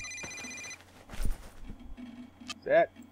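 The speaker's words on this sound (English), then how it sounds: "I answered the phone at your desk because the damn thing kept ringing." A desk telephone rings in Still Life with a short electronic trill at the start, followed by quiet movement and a soft thump, with a brief tonal sound near the end.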